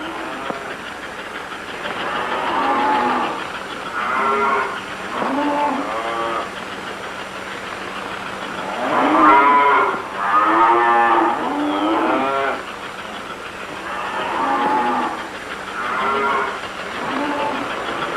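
Cattle lowing in repeated drawn-out moos while being loaded onto a railroad car for delivery to the stockyards, several calls overlapping at moderate distance over a steady low rumble.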